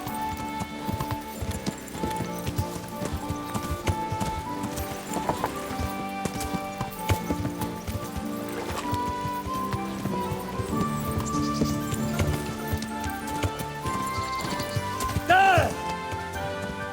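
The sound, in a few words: horse hooves and neighing in Kingdom Come Deliverance video game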